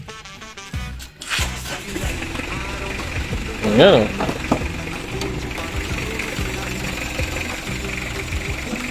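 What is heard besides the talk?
car engine started and idling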